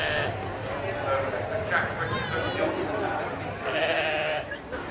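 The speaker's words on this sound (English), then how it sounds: "I've come down to the sheep pens here at the Great Yorkshire Show" Sheep bleat repeatedly from show pens at the Great Yorkshire Show, where many breeds are penned together; several overlapping calls sound close and loud against a steady crowd murmur.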